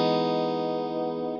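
GFI System Skylar reverb pedal in spatium mode, a big, wide, spacey modulated reverb on a guitar: a steady sustained shimmering chord that rings out alone and slowly fades.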